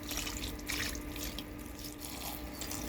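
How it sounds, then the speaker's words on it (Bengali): Water is poured into a hilsa fish curry cooking with potato and eggplant, giving a steady, close rushing splash that runs continuously for a few seconds without talk. "পরিমাণ মতো জল দিয়ে দিলাম"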